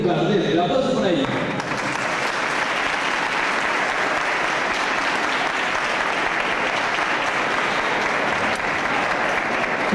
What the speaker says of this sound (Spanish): El aplauso para ella.